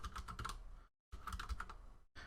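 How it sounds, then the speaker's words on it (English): Rapid clicking keystrokes on a computer keyboard in two quick bursts, separated by a brief pause, with another burst starting at the end. The typing sounds close and fairly quiet. "I just hit Windows and just started typing in Device Manager"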